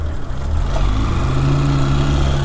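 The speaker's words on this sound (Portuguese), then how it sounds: "esse escape aqui tá mexidinho, hein" A motorcycle with a modified exhaust drones steadily and loudly at low revs, close by, with no talking.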